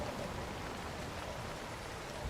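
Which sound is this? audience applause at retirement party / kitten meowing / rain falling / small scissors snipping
rain falling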